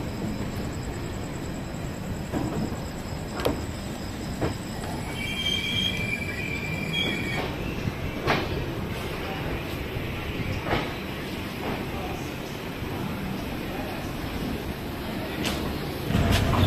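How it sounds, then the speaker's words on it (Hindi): A passenger express train pulls out of Gaya Junction, its wheels rolling steadily on the rails with a continuous rumble, faint squeals and periodic clacks heard from inside the coach. "फाइनली अपनी ट्रेन गया जंक्शन से डिपार्ट हो चुकी है।"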